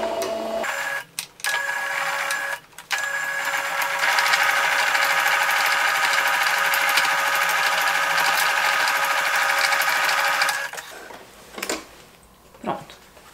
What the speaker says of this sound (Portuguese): Eu vou costurar aqui em cima, com o calcador comum, com o pezinho de máquina